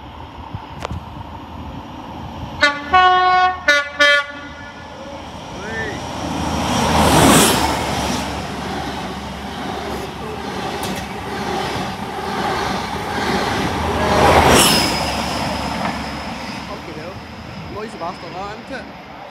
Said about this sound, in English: Midland Pullman.